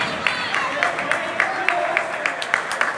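Spectators at an amateur football match applaud in rhythmic bursts of clapping, a steady patter of hands heard at moderate distance over a low crowd murmur.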